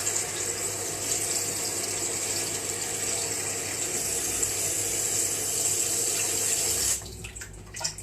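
Tap water runs steadily into a cooking pan with a bright, splashing hiss, then shuts off near the end, leaving a few faint clinks.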